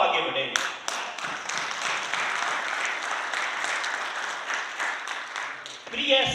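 Sustained applause from a motivational-seminar audience in Delhi, steady dense clapping for about six seconds that swells slightly at the end.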